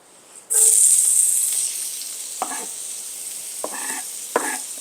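Olive oil sizzles loudly in a pan the moment it hits the heat, a steady bright hiss that eases slightly and holds, with a few soft knocks and scrapes of cookware near the end.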